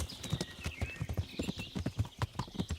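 Horse hooves clip-clopping in the medieval video game Kingdom Come: Deliverance, a quick steady rhythm of distinct, close hoof strikes at a galloping pace, with a faint background tone and no talk.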